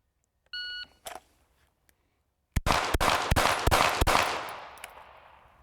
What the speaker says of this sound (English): I need 4 shots to the high A zone, nice and fast, combat speed